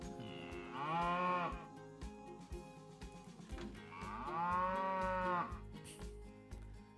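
Cow in the Planet Coaster video game lowing twice, two long, loud, drawn-out moos a few seconds apart over faint background clatter.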